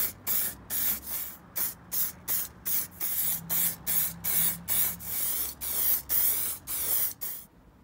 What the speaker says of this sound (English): several coats of clear lacquer, 15 minutes apart